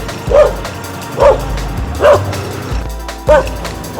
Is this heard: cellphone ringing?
no